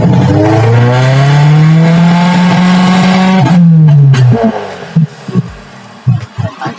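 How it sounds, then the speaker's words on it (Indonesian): A 1990 Ford Laser GL with a carburetor engine runs close by, a steady loud idle hum that shifts pitch slightly before cutting off, followed by a few brief knocks and handling sounds. "RPM 500 masih anteng ya guys mesin ini."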